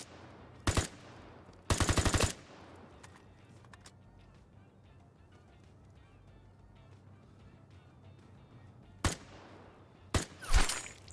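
Gunfire in the video game Vigor, with short loud bursts of automatic fire near the start and several more single shots and bursts toward the end, separated by long stretches of quiet ambient hum.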